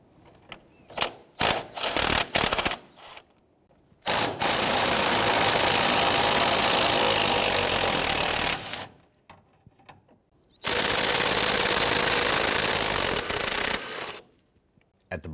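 Power tool loosening 16mm control arm bolts on a 2007-2014 Cadillac Escalade, beginning with a few short rattling bursts and then two long, loud, steady runs of whirring hammering, close by with no speech.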